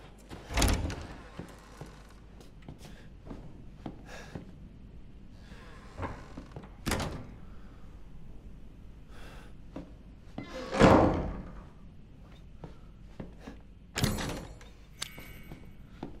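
Locked doors being tried in the horror game Resident Evil 7: a handful of hollow wooden thunks and rattling knocks spaced several seconds apart, fairly close and moderately loud, with soft background ambience between them.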